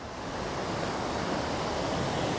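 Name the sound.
waterfall at the upper falls, Invermoriston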